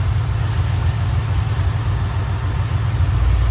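A 2010 Ford Mustang Roush Stage 3 coupe idles with a lopey cam, a loud, steady low rumble up close with no voices.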